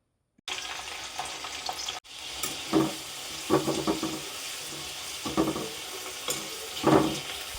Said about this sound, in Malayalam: ഒരു മിനിറ്റൊക്കെ കഴിഞ്ഞതിന് ശേഷം മാത്രം ഇതുപോലെ നമുക്കൊരു സ്പൂൺ വെച്ചിട്ട് ഇളക്കി കൊടുക്കാം